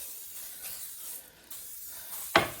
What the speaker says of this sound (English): So you spray it really nice and well.